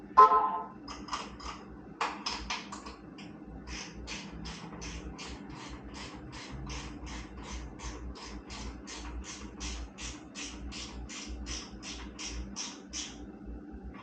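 A ratchet tightens the exhaust bolt on a 2022 Triumph Speed Twin motorcycle: a steady run of quick, even clicks close up, preceded by a few louder knocks, with no talking.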